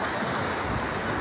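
Waves of the Adriatic Sea washing steadily along the shore, a loud, continuous broadband roar with some wind noise on the microphone and no voices.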